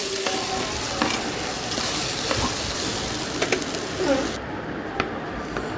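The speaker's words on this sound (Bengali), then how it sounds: "মাছ ভাজা হয়ে গেছে, বেগুন ভাজাও হয়ে গেছে।" Nola fish, eggplant and potato fry in a pan of oil, a steady close sizzle with occasional scrapes and stirring knocks.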